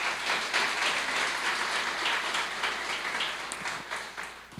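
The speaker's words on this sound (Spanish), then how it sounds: "Y por eso denle un aplauso al Señor." A church congregation applauds during a Sunday service, a steady wash of clapping from many hands that holds for several seconds at moderate level before a brief louder burst at the end.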